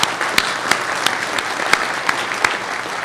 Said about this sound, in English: could give them an applause.